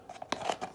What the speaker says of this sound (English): garden snips. Just cut it top to bottom.